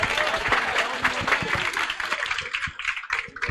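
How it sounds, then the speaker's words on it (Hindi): Classroom applause during a business communication class role-play, a burst of clapping from students that fills the clip, with voices mixed in underneath. "अभी तालियां बजी।"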